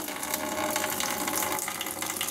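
Water flows steadily out of a laboratory setup for drinking-water experiments, a loud continuous gushing and splashing stream that sounds like a tap filling a bucket, with no voices.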